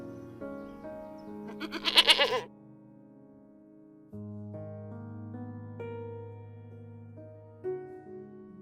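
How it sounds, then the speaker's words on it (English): A goat bleats several times, a loud, wavering, nasal cry set among other animal calls. "goat"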